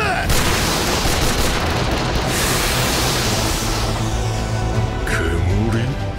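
A soldiers' gunfire volley in the Attack on Titan anime erupts as a dense, continuous roar of massed shots and rumbling booms that fills the whole stretch, loud and close, with voices faintly mixed in.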